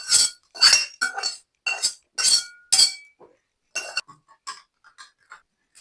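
Cooked pumpkin scooped from a pan into a metal pot, cooked over a wood-fired clay stove: a series of sharp metallic clanks and scrapes of a ladle against metal, close and loud at first, then softer, sparser taps.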